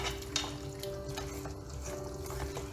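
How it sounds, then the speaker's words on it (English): Mutton being stirred with salt and spices in a pot gives a soft, continuous wet churning and scraping, steady and close, with a brief clink near the start. "Give a good mix."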